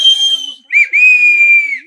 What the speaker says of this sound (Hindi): यहाँ देखो भालू की डर से सीटी बज रही है